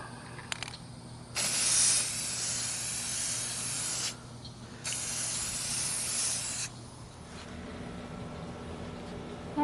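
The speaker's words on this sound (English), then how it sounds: "I'm going to spray paint these balls inside this box" Spray paint hisses from an aerosol can in two long bursts of about three and two seconds as golf balls are coated inside a box, with quieter pauses between the bursts.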